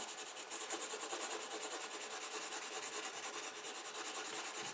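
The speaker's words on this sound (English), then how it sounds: "This is called burnishing." Carved kolrosing lines in wood are rubbed with a burnishing tool in rapid back-and-forth strokes, a close, steady scratchy rubbing with a fast even rhythm throughout and no talk.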